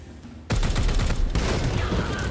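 Rapid gunfire bursts loudly and continuously as a squad shoots an enemy in the strategy game Warhammer 40k: Chaos Gate, with dense overlapping shots and booms following a quiet lead-in.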